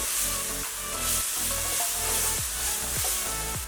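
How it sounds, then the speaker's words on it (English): Turmeric powder and cinnamon frying as they are stirred, a loud dense sizzle with a low rumbling drone and a few scraping strokes toward the end, close and unaccompanied by talk. "mix them well so that the spices will cook and get heated"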